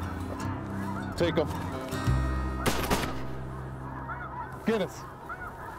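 Snow geese honk in flight during a hunt in Manitoba, many overlapping calls nearby, broken by sharp shotgun blasts, with hunters talking.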